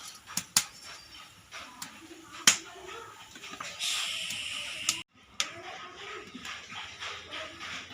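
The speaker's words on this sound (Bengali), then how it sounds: "বসিয়ে দিচ্ছি হাঁড়িটা" A cooking pot for Sindhi kadhi is set down on the stove with a few sharp knocks and clatters, close up, among light kitchen handling noises with no talk.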